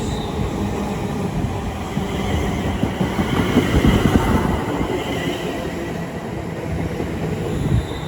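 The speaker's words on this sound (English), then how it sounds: "Incoming now is 350 256" British Rail Class 350 unit 350 256 rolls into Watford Junction on the West Coast Main Line, a rumbling approach with wheel and rail noise swelling toward the middle and faint high squeals near the platform.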